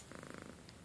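A house cat purrs close by, a soft rapid rhythmic rumble of about ten pulses in under a second, faint against a steady background hiss.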